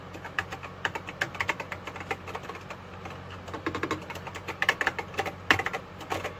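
Rapid, uneven clicking of a TI-99/4A computer keyboard being typed on, close and fairly crisp, with a low steady hum underneath.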